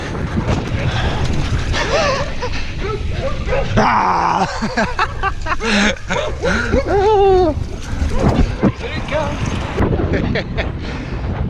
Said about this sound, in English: Alright, we have a dog.